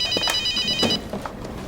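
Telephone rings twice in a TV crime drama office scene, a bright electronic trill with a short pause between rings, close and clear, then a quieter room tone after the second ring.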